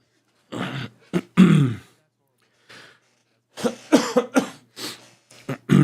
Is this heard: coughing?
yes